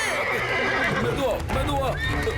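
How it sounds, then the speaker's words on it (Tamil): A cartoon horse gallops fast and neighs, with a loud whinny over clip-clop hoofbeats. "குதிரை ரொம்ப வேகமா போயிட்டு இருக்கு."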